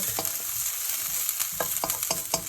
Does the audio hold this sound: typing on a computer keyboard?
no